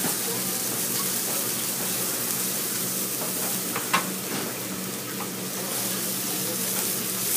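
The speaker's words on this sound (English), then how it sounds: "One of my favorite noises is the sizzling of vegetables cooking in a pan." Steady, close sizzling of vegetables and mushrooms frying in a pan, a continuous crackling hiss with a few brief clinks, no voices.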